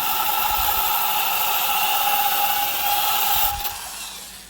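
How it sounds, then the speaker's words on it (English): A Harbor Freight Warrior nylon abrasive wheel grinds against a small bolt with a steady, high-pitched whirring hiss that holds evenly, then drops away as the tool spins down near the end. "That should be about as polished as this little bolt's going to get, or I should say sanded."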